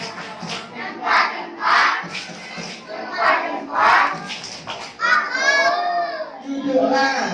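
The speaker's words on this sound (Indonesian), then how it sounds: "Kita berikan tepuk jempol kepada kalian semuanya." A group of children does the tepuk jempol thumb clap, chanting together in bright, rhythmic bursts with claps mixed into their voices, moderately loud and close.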